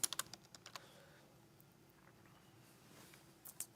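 A quick burst of keyboard typing at the start, then scattered key taps over a low steady hum, fairly close and moderately quiet.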